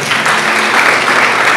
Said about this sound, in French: Applaudissements s'il vous plaît encore.